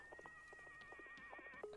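Horse whinnies and clip-clopping hooves play in the video game Wanderstop, a soft neigh over light rhythmic hoof taps with sustained musical tones underneath.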